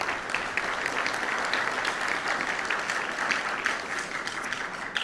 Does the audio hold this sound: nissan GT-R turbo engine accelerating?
no